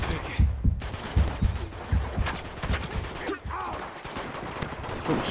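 Rapid enemy gunfire from the video game Uncharted 2: Among Thieves, loud bursts of shots crackling repeatedly across the scene while a player talks over the action.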